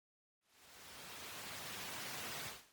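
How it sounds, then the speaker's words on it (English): Bright, thin white noise, automated in within a beat in Ableton, swells in after a moment of silence, holds steady and broad for about two seconds, then cuts off. "some really bright, thin white noise"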